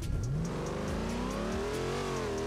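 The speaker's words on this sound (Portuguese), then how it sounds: "Eu tô acelerando, mas o carro limita." A car engine in BeamNG.drive accelerates steadily up a hill at full throttle, its pitch climbing in a continuous rising drone with no talk over it.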